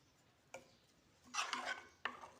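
A spoon stirring two teaspoons of dry basil seeds (tukhm-e-balanga) in a bowl, heard as a few sharp, close clinks and a brief scraping swirl against quiet surroundings.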